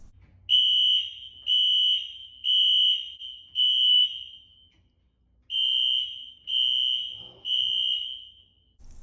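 A fire alarm set off during a smoke alarm replacement sounds in loud, steady high-pitched beeps, four long tones, a short pause, then three more, with no talking.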